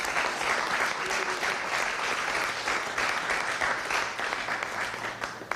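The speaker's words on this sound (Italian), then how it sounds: "Ecco, facciamo un applauso." Steady applause from an audience at a news event, a dense, even wash of clapping lasting several seconds at moderate level, with faint voices underneath.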